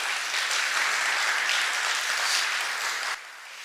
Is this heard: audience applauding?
yes